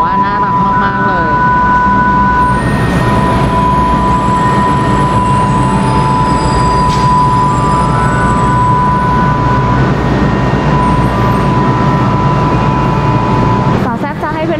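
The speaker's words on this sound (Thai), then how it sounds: "ตรงนี้ก็เป็นสถานีรถรางนะคะส่วนคันนี้ก็เป็นคันสีเหลืองเป็นรูปน้องหมูเนาะ" A yellow tram at a tram station in Takaoka, Japan, hums and rumbles steadily with a sustained electrical whine, close and loud, while someone talks over it.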